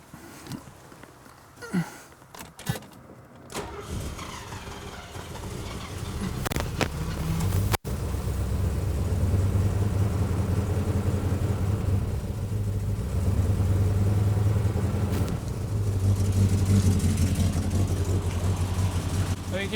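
A 1972 Mercedes 300SEL 4.5 idles with a slight misfire, a steady low engine drone that takes over after some handling noises and holds close and even to the end.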